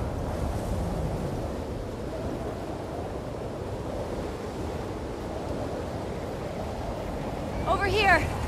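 Stormy wind and crashing waves from the video game The Last of Us Part II roar as a continuous, loud wash of noise, with a brief sharper burst near the end.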